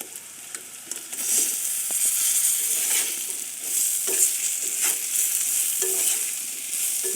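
Fish pieces stirred and frying in hot oil with browned onions for a fish bhuna, a loud crackling sizzle broken by repeated scraping strokes of the spatula, close and steady.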